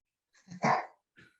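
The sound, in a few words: small dog barking and growling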